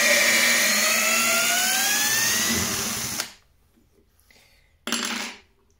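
A Parkside PABS 20-Li D5 cordless drill backs a 14 cm screw out of wood, whining loudly and steadily with rising pitch for about three seconds, stopping, then a short second burst, close up with no talk.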